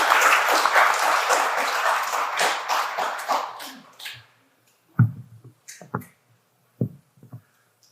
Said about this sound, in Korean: 한진욱 신부님을 따뜻한 박수로 맞아주시기 바랍니다